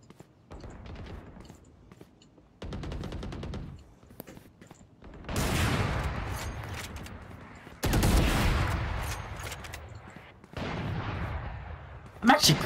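Gunshots in a video game ring out in several loud bursts of rapid fire separated by quieter gaps, with a sharp crack at the end.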